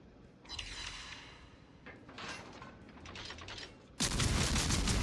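Naval guns firing in a warship video game, a series of rumbling shell salvos that swell and fade, ending in a sudden, loud, sustained blast.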